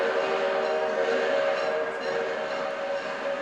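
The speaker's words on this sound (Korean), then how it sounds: "지금은 기적 소리와 함께 움직이는 모형 기차가 더 유명한데요" A model train on a clock tower at a city-centre crossroads in Ulsan sounds a sustained whistle tone over steady background noise throughout, moderately loud, with no talk.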